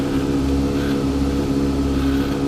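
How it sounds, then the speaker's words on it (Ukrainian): Honda CBR600F motorcycle engine idling steadily after a cold start, a continuous low hum with even tone and no revving, heard up close and alone. "Тобто ну, двигун працює нормально."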